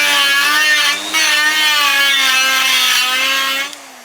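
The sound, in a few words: cutter removing fins from Yamaha RD 500 cylinder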